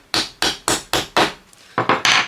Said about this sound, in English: I'm going to take a hammer. I've got a little hammer.